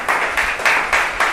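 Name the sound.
church congregation applauding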